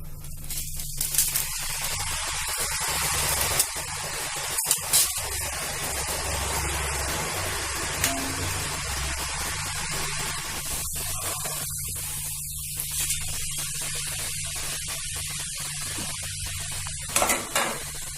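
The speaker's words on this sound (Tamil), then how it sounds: "ஓமப்பொடி அச்சில் ஓமப்பொடி பொழிகிறோம்." Omapodi sev dough pressed through a mold into hot oil, frying with a steady, dense sizzle throughout, with occasional clinks and bursts of crackling.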